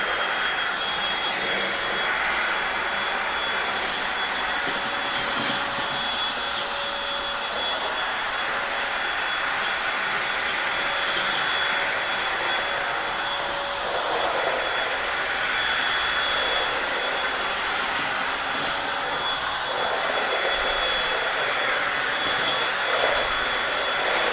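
Eureka 3-in-1 vacuum picking up crushed tortilla chips and cereal, running as a loud, continuous high-pitched whine with airy motor roar, steady throughout with small shifts in tone as it moves, and no talking.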